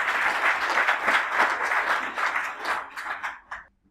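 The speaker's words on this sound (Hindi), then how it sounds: "एक बार उनके लिए जबरदस्त तालियां चाहूंगा" An audience at a product training program bursts into loud, dense clapping that holds strong for several seconds, then thins out and stops abruptly near the end.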